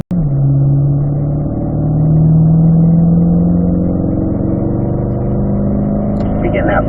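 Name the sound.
Chevrolet Corvette C8 engine accelerating after upshift to fifth gear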